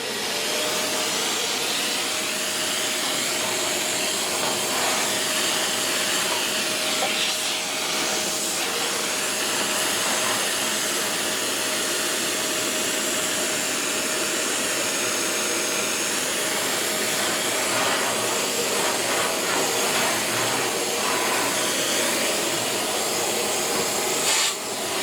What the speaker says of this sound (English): Vacuum's about to be started.